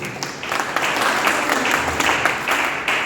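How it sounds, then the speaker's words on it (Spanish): A church congregation clapping for the Lord during a Spanish-language sermon, short bursts of fairly close hand claps in an uneven rhythm, brief and lively over about three seconds. "Dale un aplauso al Señor."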